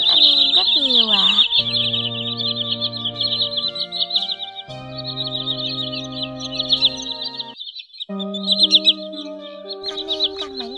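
Common greenshank (white-bellied) calls in repeated sharp high whistles, loud and close, with several overlapping bird voices and steady tonal call notes running through most of the stretch.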